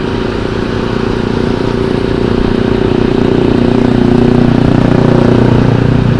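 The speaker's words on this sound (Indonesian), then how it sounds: "Aduh, motormu mas, berisik." A loud motorcycle exhaust rumbles continuously up close, a harsh, throbbing idle that grows slightly louder toward the end, with no talking.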